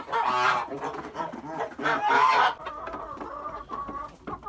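Chickens clucking and squawking loudly up close, a busy overlapping flock with repeated calls and no talking.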